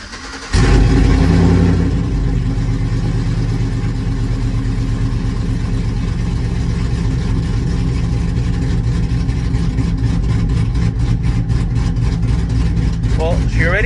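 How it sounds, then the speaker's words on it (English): A cammed LS engine in a Chevrolet Tahoe cranks and fires on a cold start, then settles into a loud, lumpy idle that carries on throughout, with a few faint chirps near the end. "She already sounds a lot better at idle, and it's just a cold start."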